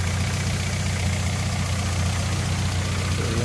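Close, loud idling of a 2001 Honda Accord VTi engine, a constant low throb and an even mechanical rattle, unbroken throughout and with no voices.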